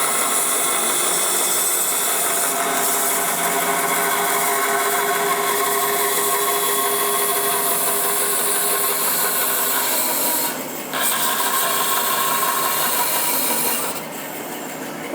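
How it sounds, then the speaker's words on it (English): A bandsaw runs steadily while its blade cuts through a curved piece of wood being swung and fed by hand, a continuous close whine and rasp with a brief dip near the end and no talk. "we're going to pop the bandsaw on, just lining it up with that cut there, and just swinging as I feed it"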